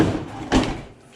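A dishwasher door being removed lands with a single dull thud in the middle, preceded and followed by a soft rumbling shuffle, close and fairly loud.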